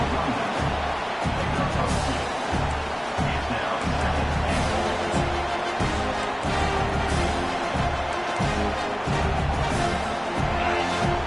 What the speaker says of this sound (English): These fans raising the volume on second and goal.